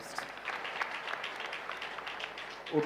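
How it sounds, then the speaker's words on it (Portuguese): A church congregation claps together in soft, steady applause during a service, and the sound grows louder with a sudden burst right at the end. "Vamos aplaudir a Jesus Cristo."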